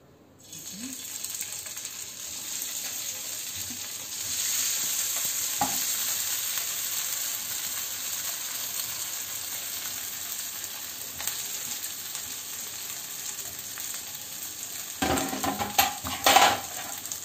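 Leftover idli pieces fry in hot oil in a pan, a steady close sizzle running throughout while a utensil turns them, with scraping and clinks of metal against the pan growing busier near the end.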